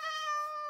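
A single steady, drawn-out Minecraft cat meow, clear and close, with no other sounds around it.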